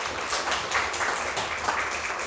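An audience applauds at the end of a humanities lecture at a university, a dense, steady wash of many hands clapping throughout.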